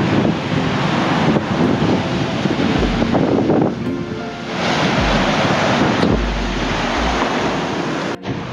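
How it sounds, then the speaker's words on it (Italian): Ocean waves breaking on the Namibian coast where it meets the desert, a continuous roar of surf mixed with heavy wind buffeting the microphone. "Dove l'oceano bacia il deserto."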